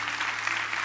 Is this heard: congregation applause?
yes